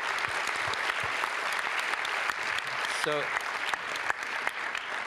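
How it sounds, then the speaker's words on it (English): Audience at a humanitarian congress applauds a conference panel, with steady, dense clapping filling the room throughout and a brief spoken word at the start. "let's give a round of applause to the panel and to ourselves"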